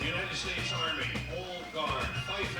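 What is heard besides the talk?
None of the usual background noises is heard.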